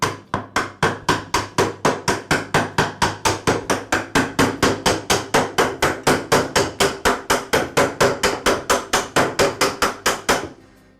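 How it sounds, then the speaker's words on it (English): A hammer taps a replacement spool into place on a Ryobi string trimmer shaft, a fast, evenly spaced series of sharp knocks, dozens of close, loud strikes in steady rhythm that stop abruptly near the end. "And I'll use a hammer to tap it into place as well."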